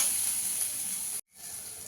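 Ginger and green chilli paste frying in a pan, a close steady sizzle and hiss that cuts out abruptly for a moment, then resumes slightly softer.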